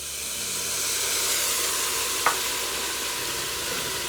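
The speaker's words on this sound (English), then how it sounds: "now we're gonna go in with our 1/4 cup of brandy." Quarter cup of brandy poured into a hot pan of ground beef stroganoff, giving a steady, close sizzle and hiss with a brief sharp crackle midway and no talking.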